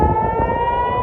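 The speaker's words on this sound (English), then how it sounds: "Bomb sirens ringing through the skies as rockets rain down." An air raid siren wails during rocket attacks in Israel, a steady sustained tone with harmonics heard alone for a brief moment.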